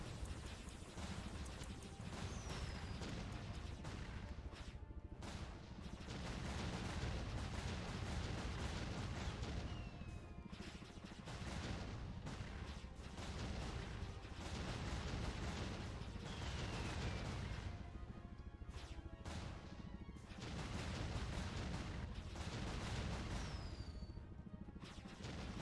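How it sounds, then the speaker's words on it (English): Repeated loud missile explosions and crashing impacts in the martial-arts role-playing game Jade Empire, a dense, sustained barrage with rumbling low end and scattered sharp hits. "Oh, that's a missile! That's a missile!"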